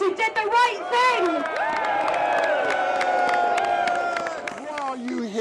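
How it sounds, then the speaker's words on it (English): A rally crowd at a Brexit vote gathering cheers and whoops with scattered clapping, a steady loud roar of many voices lasting the whole stretch, with shouted calls rising above it. "let's have a big cheer for everybody who's been part of our movement"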